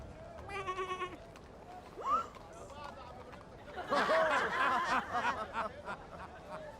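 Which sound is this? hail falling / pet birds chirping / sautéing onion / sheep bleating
sheep bleating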